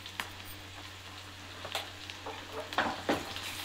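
Ginger garlic paste fries in a pan with a soft, steady sizzle, broken by a few brief scrapes as it is stirred, heard close and fairly quiet with no one speaking.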